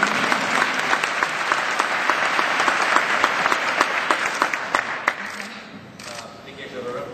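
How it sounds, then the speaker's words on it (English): Steady applause from a conference audience at a round-table panel, continuous clapping with a few louder individual claps, fading slightly toward the end. "I expect more applause."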